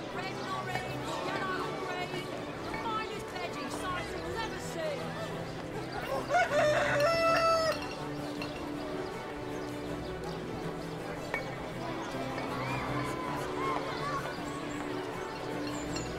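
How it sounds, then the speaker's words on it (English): Chickens and a rooster cluck and crow in the fantasy role-playing game Divinity: Original Sin, with a brief crowing burst in the middle over a busy ambient game soundscape with music and background bustle. "Come on, you chickens!"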